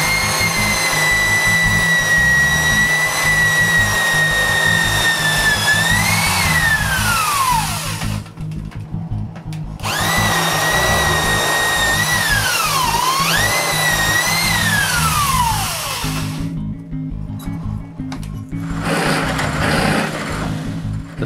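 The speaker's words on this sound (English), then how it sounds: "Now I can drill the holes of all the big tiers." A power drill whines at high speed drilling holes in wooden cupcake tower tiers, its pitch dipping and sliding as it bites in, then stopping briefly before spinning up again twice.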